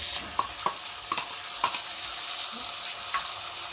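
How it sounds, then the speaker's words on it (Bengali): Ground turmeric, chili, ginger, cumin and onion paste with salt frying in a pan, a dense sizzle close up, with quick spatula scrapes and taps repeating every half second or so while the spices are stirred. "দিয়ে মশলাটা ভালোভাবে কষিয়ে নেবো"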